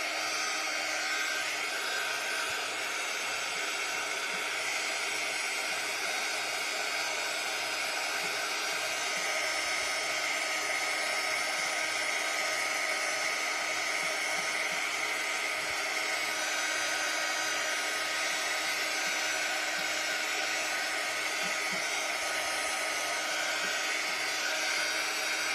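A hair dryer blows in a continuous, even whoosh for the whole stretch, drying a painted mason jar, close and moderately loud with no voices.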